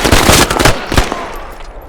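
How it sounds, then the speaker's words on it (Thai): Rapid bursts of automatic gunfire from the military shooter game Squad, loud and close, with several clustered volleys in quick succession and no talk. "ปืนยิงโคตรดีบอกเลย"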